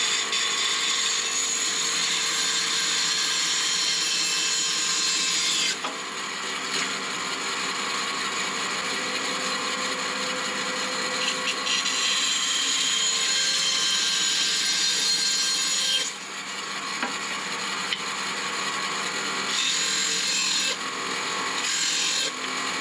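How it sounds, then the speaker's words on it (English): Bandsaw cutting through wooden cocktail smoker blanks in a workshop, a steady loud whining buzz of blade on wood that dips briefly twice as cuts finish, no talking. "I'm just gonna finish cutting them through on the bandsaw."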